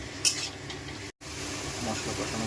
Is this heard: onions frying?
yes